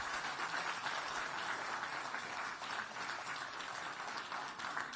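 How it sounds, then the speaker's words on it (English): Sustained applause from an auction room audience at a sale of a watch that belonged to China's last emperor. Many hands clap in a dense, even wash that holds for several seconds, with no voices over it. "Well-deserved applause"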